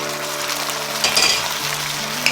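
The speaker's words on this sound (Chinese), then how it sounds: "下入我们的肉片儿" Pork slices sizzle loudly in a thickened sauce in a wok, a dense steady frying hiss with a few faint stirring knocks.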